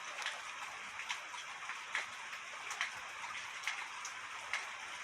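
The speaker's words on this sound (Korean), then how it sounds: "양철 지붕 위로 이렇게 비가 떨어지고 있고요" Steady rain patters on a tin roof, with scattered louder drips ticking irregularly over a continuous hiss.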